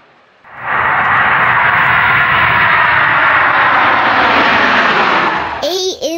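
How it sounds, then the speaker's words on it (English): An airplane roars past in a loud, steady engine rush that swells in quickly and holds before fading, ending in a brief electronic chime. "A is for airplane."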